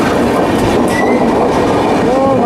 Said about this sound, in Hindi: क्वीन राजधानी सियालदह राजधानी ओवरटेक करती हुई हमारी ट्रेन